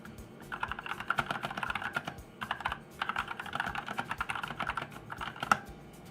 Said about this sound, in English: here's a quick typing test.